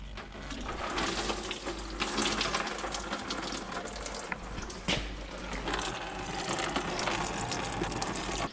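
Coolant pouring steadily out of a Mazda MX5 engine's loosened hose into a drain bucket, a continuous close splashing trickle with occasional metallic knocks.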